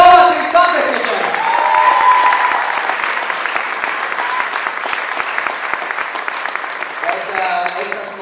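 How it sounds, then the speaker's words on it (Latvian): An audience at a municipal sports laureate awards ceremony gives sustained applause, dense rapid clapping filling the hall for several seconds, with a voice briefly heard at the start. "Pēdējo reizi ovācijas santehniķiem."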